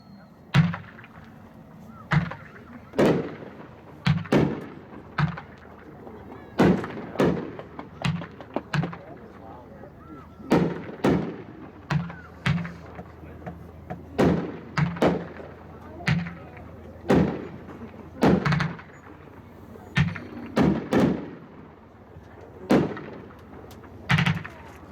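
Fireworks cake named Eyes on Me, a 9-shot 500-gram item, fires a steady run of sharp booming bursts, each with a crackling tail, spaced a second or two apart over a low background murmur.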